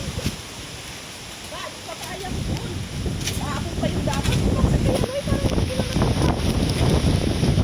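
Strong wind buffets the microphone outdoors in heavy, rumbling gusts that grow louder, with voices talking underneath.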